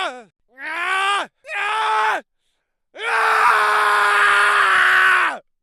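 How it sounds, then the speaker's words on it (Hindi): A man screams in pain as a horror story sound effect: two short anguished cries, then one long drawn-out scream, loud and close with brief silences between them. "उसकी चीखें दिल दहलाने वाली थीं।"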